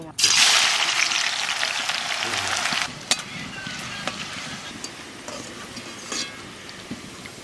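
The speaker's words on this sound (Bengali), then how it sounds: "আমি একটু পেঁয়াজে বেরেস্তা করে নিই" Onions frying into crispy birista for a potato and soya chunk biryani, a loud broad sizzle that holds steady for about three seconds and then drops to a quieter crackle with scattered pops.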